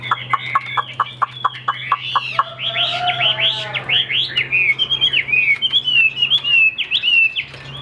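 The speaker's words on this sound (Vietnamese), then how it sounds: "nói chung từ kể về giọng hót các bác không thể chê được em chim này đâu" A caged tam hoàng songbird sings loudly and close, starting with a rapid rhythmic series of sharp chips and then moving into bright, continuous warbling phrases over a steady low hum.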